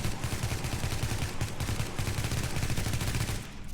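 An SMG in the video game The Division fires in short controlled bursts, dense loud rapid shots broken by brief pauses, close and continuous.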